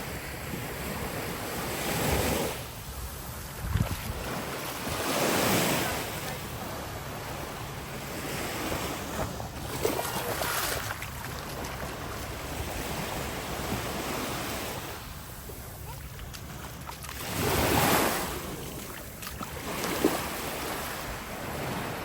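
Sea waves washing onto the shore at Rhodes, Greece, rolling in several times in slow surges with wind buffeting the microphone throughout; no talking.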